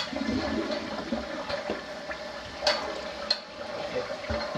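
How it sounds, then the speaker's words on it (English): A toilet flushing in the main bathroom of a house, a commode that siphons weakly, giving a steady wash of running water with brief gurgles and splashes throughout. "this is just not really the most positive flush I've seen"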